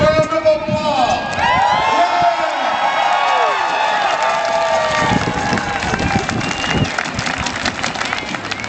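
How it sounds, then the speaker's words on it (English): Rally crowd at a state capitol economic rights event applauding, cheering and whooping, a loud, dense wash of claps and shouts that holds steady throughout, with voices calling out over it. "Give yourselves a great big round of applause"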